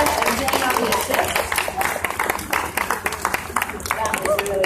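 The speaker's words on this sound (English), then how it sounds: "let's have a huge round of applause for your gaffer, George Henry" An audience at a glassblowing demonstration at the Corning Museum of Glass applauds the gaffer, a continuous patter of many hands clapping at close range with faint voices underneath.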